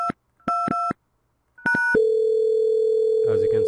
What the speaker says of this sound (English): As you can see, it's ringing 2002.